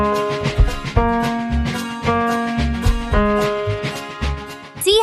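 Fast piano rendition of the nursery tune Old MacDonald Had a Farm, bright repeated notes over a steady bouncing bass line, a quick even rhythm played clearly and close with no voices.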